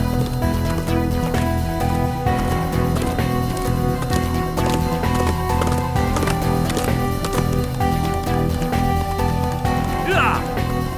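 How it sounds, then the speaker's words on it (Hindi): A horse's hooves pound in a fast, steady rhythm during a chase scene in a dubbed Turkish drama, mixed under voices and other dense sound. "ठीक है, मैं ये घोड़ा ले रहा हूँ।"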